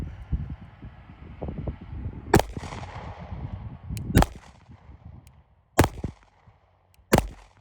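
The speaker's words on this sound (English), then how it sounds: "I'm going to shut up and at least get to some shooting just to see how I like it." An OA Defense 2311 Compact Pro pistol fires four loud, sharp shots spaced a second or two apart, each cracking over a steady rumbling outdoor background.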